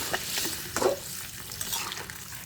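Hot water goes into a pan of spices frying on high heat for a hilsa fish curry, producing a close, rushing hiss and sizzle with brief surges as the liquid hits the hot oil.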